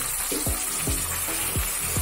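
Onion, tomato and green chili sautéing for ghee rice give off a steady, close sizzle, with small bubbling pops and spatters breaking through the hiss at irregular intervals.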